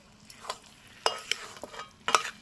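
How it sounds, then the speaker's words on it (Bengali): A spoon stirs a shrimp, poppy seed and drumstick flower dish in a pan. Three or four short scraping strokes rise out of a quiet background, each sharp and close. "এবার এটাকে নেড়ে দেব"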